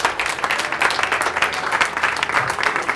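Sustained applause from an audience at a European film music event, steady and fairly loud, with dense overlapping claps throughout and no talking.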